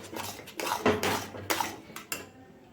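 Grated green corn stirred in ghee and oil in a pan, heard as a few distinct scraping strokes of a spoon against metal, close and rhythmic, with no talking.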